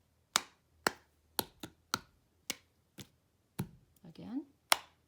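Sharp hand claps and taps follow one another in a quick, steady rhythm, close and crisp, a cup-game style pattern with a brief scraping shuffle near the end.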